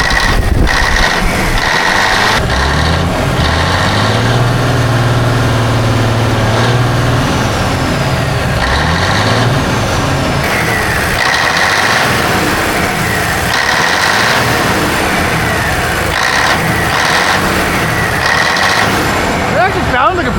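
A 1980 Caterpillar-powered K-Whopper truck engine idles steadily and loudly at close range, a continuous low rumble running through with people talking over it.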